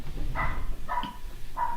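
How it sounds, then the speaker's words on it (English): Dogs bark three separate times at a moderate distance, with short gaps between each bark. "the dogs are barking"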